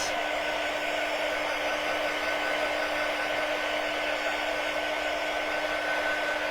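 Steady, continuous whir of a hair dryer blowing air to dry a freshly painted toy truck, an even drone held close and unchanging throughout with no talking.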